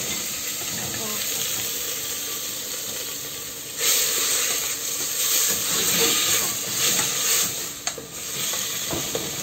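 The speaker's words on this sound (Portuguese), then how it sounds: "E agora eu vou refogar, mas antes disso eu vou colocar um dente de alho" Garlic clove sautéing in a pan for a home cooked fish dish, a steady sizzle with stirring scrapes and bursts of louder frying midway, no talk.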